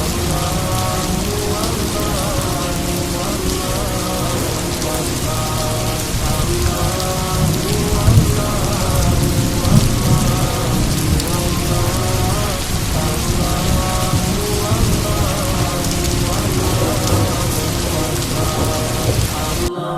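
Heavy rain pours steadily on surfaces throughout, loud and dense, with low rumbles of thunder rolling in the background.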